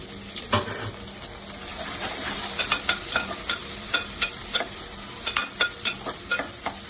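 Onion and green chilli pieces frying with dried prawns in a pan, a continuous sizzle punctuated by a regular series of close spatula scrapes and taps.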